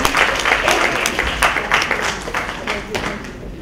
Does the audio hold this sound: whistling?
no